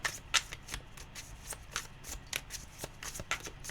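Tarot cards being shuffled, giving quick crisp riffling and snapping card sounds in an irregular rhythm, close and fairly quiet, with no talking.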